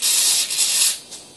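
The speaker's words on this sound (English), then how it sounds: "I'll spray this out with some electrical contact cleaner." Electrical contact cleaner sprays into a carburetor area during cleaning, a loud close hissing burst lasting about a second, then a brief short second puff.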